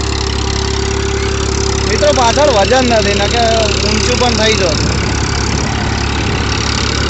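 A Massey tractor's diesel engine runs steadily at a low, even throb throughout, close and continuous, with someone talking over it for much of the time.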